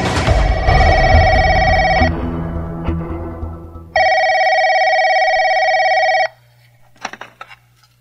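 A telephone rings in two long electronic bursts, the first partly under a rumbling background and the second loud and clean, followed by brief clicks and a handset being picked up.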